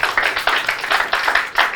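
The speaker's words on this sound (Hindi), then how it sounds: "एक बार यार अपने लिए तालियां बजा दो।" A stand-up comedy audience claps in a dense, steady burst of many hands, fairly close and loud, with no voices over it.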